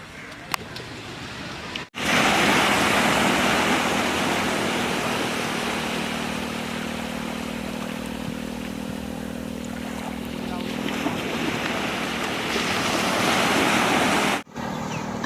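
Sea waves wash steadily onto Arnala beach at sunset with boats moored nearby, a broad continuous surf roar that runs near and loud for most of the stretch and fades out at the end.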